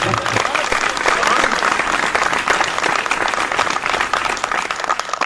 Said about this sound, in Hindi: अगर अच्छा किया हो तो एक बार जोरदार तालियां मेरे लिए।